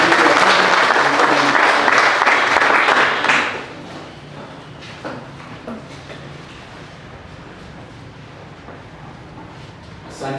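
A church congregation applauds to welcome the pastor, loud dense clapping for about three seconds that cuts off abruptly, leaving quiet room tone with faint scattered sounds.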